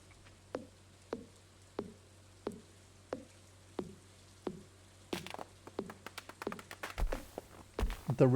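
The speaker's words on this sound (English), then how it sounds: "The rhythmic chopping of trees in this game is also just a very nice, nice sound to be listening to." Rhythmic chopping of trees in the video game Stardew Valley: evenly spaced sharp axe thunks, about one every half second, speeding into denser clustered hits and cracks toward the end.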